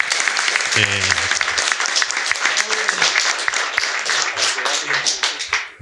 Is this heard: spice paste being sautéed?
no